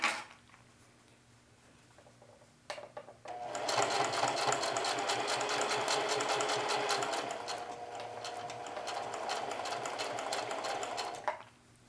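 Sewing machine stitching double rows on a jeans pocket, a steady fast whirring run of about eight seconds that starts after a few short bursts and stops abruptly, close and loud over a faint hum.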